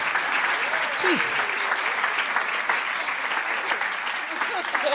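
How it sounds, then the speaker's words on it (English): Audience applause at a closing ceremony runs as a steady, full wash of clapping throughout, with a brief spoken exclamation and some voices heard over it. "Round of applause."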